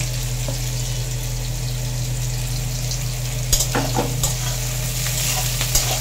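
Onion and garlic frying for a home-style mutton dish, stirred in a pan: a steady low sizzle with a constant hum beneath, punctuated around the middle by a few sharper scraping clacks of the spoon against the pan.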